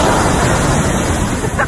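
Rough ocean waves crash and surge in a loud, continuous roar of broadband surf noise, with no clear breaks throughout.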